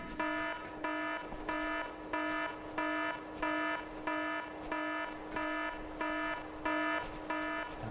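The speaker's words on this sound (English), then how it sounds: "The alarm is killing me." A repeating alarm blares in SOCOM US Navy Seals II, about a dozen evenly spaced, harmonic electronic pulses that keep a steady, insistent rhythm with no voices over them.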